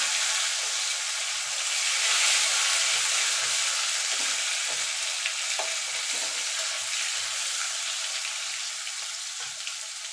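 A medium tomato drops into hot oil tempered with nigella seeds for an onion- and garlic-free okra curry, giving a steady, even sizzle and hiss that fades slightly toward the end, with no voices.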